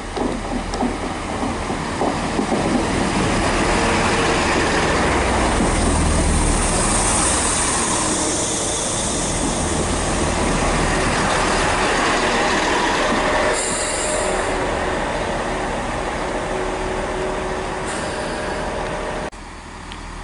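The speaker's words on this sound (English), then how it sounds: "arriving now is a 1019 Great Western Railway service from Southampton Central to Bristol Temple Meads" Great Western Railway Class 166 diesel unit, a Southampton Central to Bristol Temple Meads service, arriving at Keynsham station on the Great Western Main Line: a loud, sustained rumble of the train pulling in, with squealing wheels and brakes, then a sudden drop near the end.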